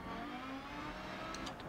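A car engine in a racing video game hums steadily and fairly faintly, with a sustained tonal drone and a few brief higher whines near the end and no speech.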